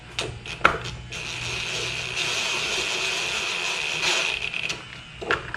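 An impact driver runs bolts into plastic and aluminum on a Troy-Bilt machine, making close ratcheting mechanical chatter with sharp clicks at the start and end and a sustained buzzing run in the middle.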